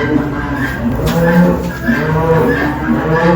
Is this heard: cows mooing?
yes